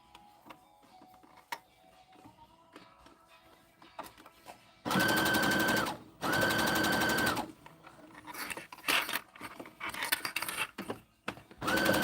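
A domestic sewing machine stitches through layered fabric of a Christmas stocking in two steady motorized bursts of several seconds each, a short pause between them, then lighter handling and fabric rustling follow.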